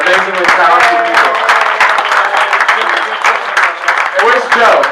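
An audience at a New York film festival Q&A applauds the film's cast, with steady crowd clapping mixed with cheering and voices talking over it.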